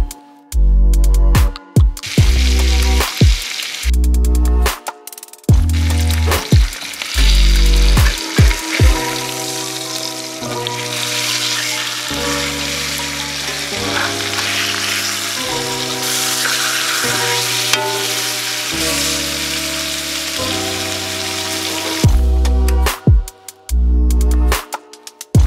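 Small kokanee trout fillets fry crispy in a skillet, a steady close sizzle and crackle running the whole time beneath prominent background music with bass notes and beats.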